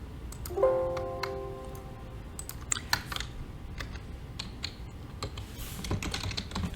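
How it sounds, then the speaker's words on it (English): Keystrokes on a computer keyboard as a note is typed into an editor, a run of light, irregular clicks at moderate distance over a faint hum, with a brief tonal beep near the start. "You're going to type in"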